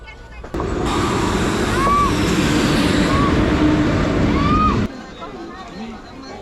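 A train rumbles past with a steady roar and several high, drawn-out wheel squeals, while muffled voices murmur in the background.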